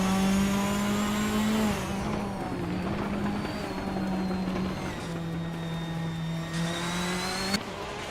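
A 2015 Ferrari 488 GTB with a turbocharged V8 races in a video game, its engine holding a steady high drone with smooth pitch shifts through gear changes, loud and continuous, with a brief sharp click near the end.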